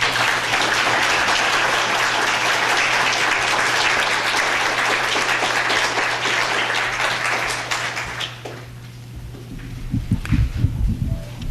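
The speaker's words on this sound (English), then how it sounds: "Brother, round of applause, Brother Miller." An audience applauds after a talk, dense sustained clapping from many hands that fills the room, then thins and fades into a few scattered claps near the end.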